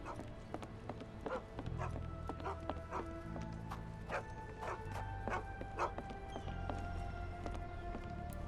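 A dog in the Sherlock Holmes The Awakened video game barks in a quick series of short, evenly spaced yaps over a low game soundtrack, with faint speech in the background.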